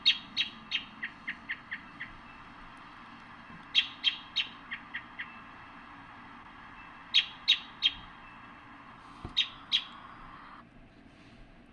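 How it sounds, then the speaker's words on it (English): An American robin gives repeated sharp, high calls in quick bursts of several notes, four separate volleys spaced a few seconds apart, clear and fairly close against a quiet background hum. "That's the American robin. They give a call here."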